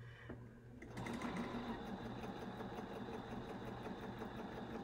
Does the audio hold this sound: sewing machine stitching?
yes